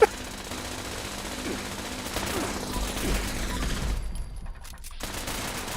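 Rapid automatic gunfire from a small gun in Fallout 76, a continuous dense burst of shots with game sounds, cutting out briefly near the end before resuming.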